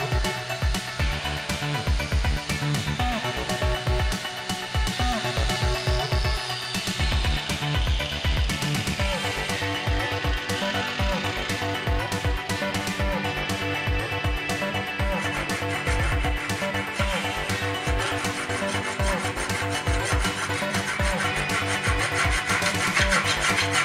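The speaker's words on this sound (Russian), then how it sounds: "Сейчас я это попробую сделать при помощи болгарки и трех отрезных дисков," An angle grinder fitted with three stacked cut-off discs cuts a slot in a workpiece, giving a continuous harsh, gritty whine with shifting pitch and loudness, close and sustained throughout with no speech.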